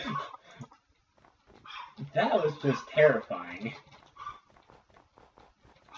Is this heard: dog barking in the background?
yes